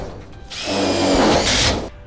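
A cordless power drill drives screws into the diagonal door braces of an Absco steel shed, one loud whirring burst of about a second and a half heard close up.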